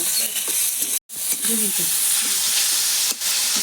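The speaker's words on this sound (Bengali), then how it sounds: "একসঙ্গে আমি ভালো করে কষিয়ে নেব।" Soybean kofta curry masala with chili powder and sugar cooks down in a pan, giving a steady sizzle with soft stirring scrapes and a brief pause near the start.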